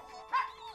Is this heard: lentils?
no